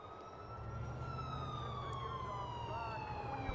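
Police car sirens wail in the video game GTA IV, a steady falling tone with a second siren layered over it, moderately loud over a low engine rumble, with no talking.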